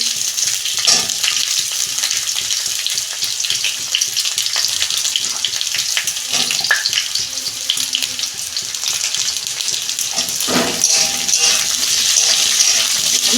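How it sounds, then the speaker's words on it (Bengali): Ivy gourd vegetables fry in a pan with a steady, close, watery sizzle and occasional stirring clatters throughout. "দু মিনিট ভেজে নেবো সবজিগুলো"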